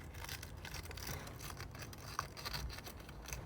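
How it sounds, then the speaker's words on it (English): Sandpaper files the crankshaft of a Stihl MS194T chainsaw, making faint, quick, scratchy rubbing strokes close by in a quiet room, with no talking. "I have my sandpaper and I just filed."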